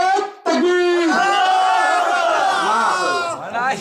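A large gathering answers a takbir call with a loud, unified chant, first one voice calling out, then the crowd roaring back in a sustained sung response that swells and fades.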